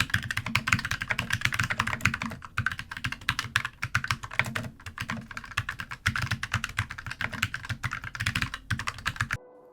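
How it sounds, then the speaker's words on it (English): Gaming keyboard keys typed rapidly and bottomed out, a dense stream of close, crisp clacks in bursts with brief pauses, heard alone. "The sound of the keys bottoming out, which is when the key goes all the way down as far as it can"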